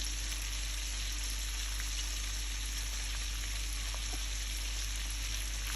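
Broccoli, mushroom and capsicum frying with half-boiled long beans in a pan, a steady close sizzle with faint scrapes of stirring running throughout, no voices.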